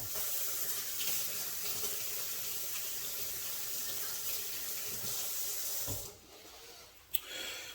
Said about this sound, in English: wash my spoon off so I can taste again.